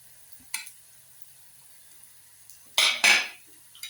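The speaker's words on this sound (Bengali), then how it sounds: "এবার আমি এর মধ্যে দিয়ে দেবো আদা এবং রসুনের পেস্ট।" Ginger-garlic paste goes into a hot pan for rohu fish dopiaza, giving short bursts of sizzle and scraping stirs with a clink of a utensil, mostly quiet between the louder strokes.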